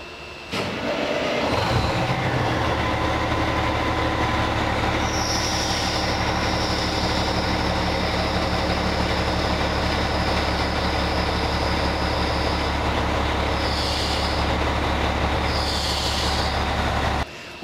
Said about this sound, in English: All right, we're going to start our truck now.